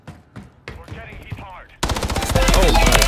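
Loud, rapid automatic gunfire from Modern Warfare III multiplayer bursts in after a quieter start of footsteps and game sounds, continuing as a steady rattling stream to the end.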